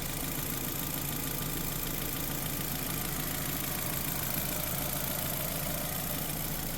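A 2006 Nissan Sentra engine idles steadily after a water pump replacement, a constant close, loud hum and whir with no change in speed throughout.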